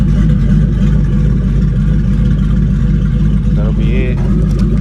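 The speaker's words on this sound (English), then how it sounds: "Here's the chop one more time." A Ford Mustang GT with a 4.6-litre 2-valve V8 running CMS stage 1 cams idles with a loud, deep, lumpy chop that stays close and constant, while someone talks over it.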